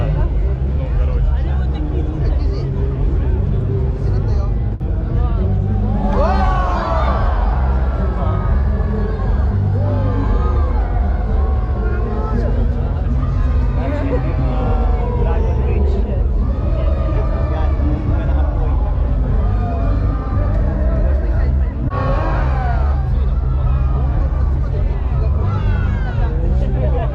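Dense crowd hubbub on a bridge in Da Nang, a continuous wash of many voices and chatter mixed with traffic and occasional rising siren-like tones, with nearby people talking throughout.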